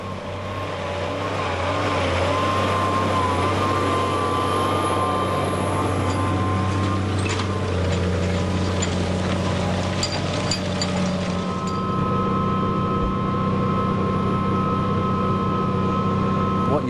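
A farm tractor pulling a plough rolls past close by, giving a loud, steady engine drone with a low hum that holds for the whole stretch and shifts slightly as it moves on.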